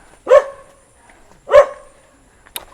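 Two loud, distinct dog barks about a second apart, close by, followed by a brief faint click; no talking.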